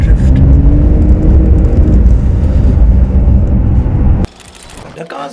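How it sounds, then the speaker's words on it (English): A Porsche 911 Dakar's 3-litre twin-turbo flat-six drones loudly and steadily as the car slides and drifts on ice, then cuts off abruptly near the end, leaving faint wind and rustle. "if you know your machine, you can continues to slide and drift"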